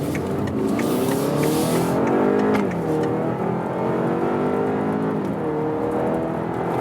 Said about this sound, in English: Let's go to the sport mode and show you the performance of this engine.